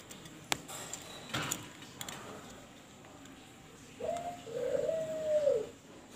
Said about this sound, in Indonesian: Sekarang burung puternya yang baru kita taruh di tempat sangkarnya.